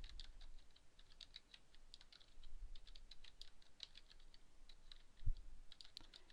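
Computer keyboard keys clicking in quick, irregular bursts as a command is typed into Stata statistics software, soft and close throughout with one louder thump near the end.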